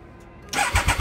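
A Triumph Speed Triple motorcycle fitted with twin Delkevic mufflers fires up after a brief starter whir, then settles into a loud, close, throaty idle with pulsing low exhaust beats.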